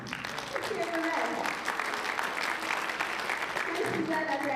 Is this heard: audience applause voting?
yes